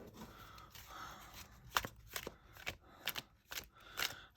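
Celtic Dragon tarot cards being shuffled by hand, giving soft, close riffling and snapping bursts in an irregular rhythm of quick flicks with quiet gaps between them.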